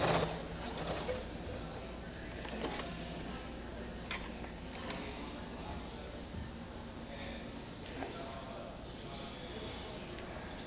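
A sewing machine stitches a quilt block from the outer tip into a Y seam with a steady, quiet rapid ticking that runs the whole time, with a voice speaking over it now and then.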